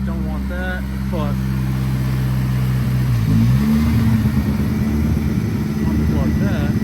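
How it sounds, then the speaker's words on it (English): A BMW E36 with the M42 engine idles high at about 1100 RPM, a steady close engine hum with a brief pitch dip and rise midway, while a voice talks over it. "So just started the car, foot is off the gas. As you can see, it's idling at 1100 RPMs."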